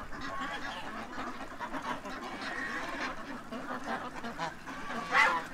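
Geese and ducks at a pond honking and quacking in a busy, overlapping chorus, fairly close and continuous, with one louder honk rising near the end.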